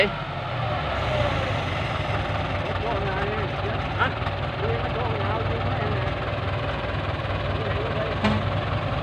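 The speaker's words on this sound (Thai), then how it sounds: "เอารถไถติดลมครับ" Ford farm tractor engine running in fields at Ban Khok Kong, Satuek, Buriram, a steady, loud, close drone that continues unbroken, with voices talking over it.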